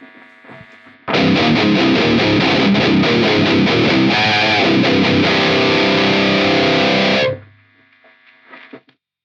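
Electric guitar through a Nux Solid Studio with the gain pushed up: a loud, sustained, heavily distorted chord rings for about six seconds, then cuts off, with faint hiss before and after.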